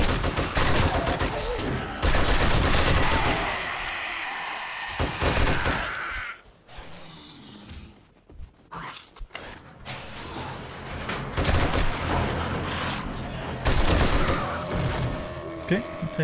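Heavy gunfire from a big gun in the zombie survival game 7 Days to Die, loud rapid bursts with a brief lull in the middle before shooting resumes, dense and close.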